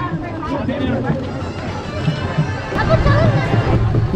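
Dense crowd hubbub at the Sailani Baba pilgrimage fair in Buldhana, a steady murmur of many voices close around with scattered footsteps, growing a little louder toward the end.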